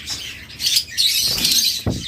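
Caged lovebirds, cockatiels and budgerigars give sharp bursts of chirps and chatter with quick rustles and wing flutters, close and loud, in short uneven flurries.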